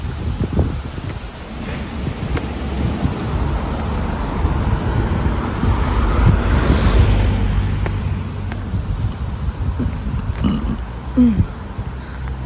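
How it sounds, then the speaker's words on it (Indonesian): Strong spring wind blows outdoors in Korea, a loud, rumbling roar that batters the microphone and swells and eases in gusts for the whole stretch. "anginnya tuh parah kenceng banget ya"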